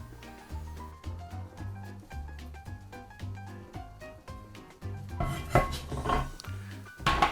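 Cornbread is turned out of a metal pan in a Southern kitchen for a low-carb, corn-free recipe, with a run of pan knocks, taps and clinks of cookware. A louder clatter of metal follows near the end.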